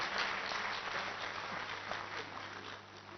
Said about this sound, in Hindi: तो बहुत बहुत ताली बजाओ